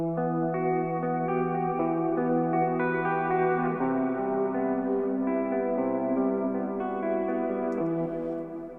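Clean guitar intro in an airy, atmospheric cloud-rap style, picked as a chain of sustained arpeggiated notes drenched in reverb and echo, with chorus shimmer; steady and fairly loud throughout, no voices.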